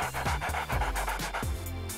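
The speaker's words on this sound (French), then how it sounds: "Mélissa adore jouer avec son husky." A husky pants quickly and steadily up close, a rhythmic run of short breaths at about four per second.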